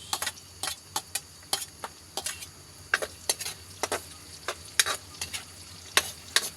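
Garlic frying in a pan, a soft background sizzle broken by frequent sharp scrapes and taps of a utensil stirring it, close and fairly quiet.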